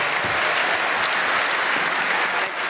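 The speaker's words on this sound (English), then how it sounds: "Round of applause." A crowd claps in sustained, dense applause that holds steady from start to finish, with no voices standing out.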